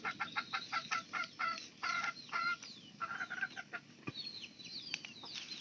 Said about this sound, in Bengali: মুরগি করকরা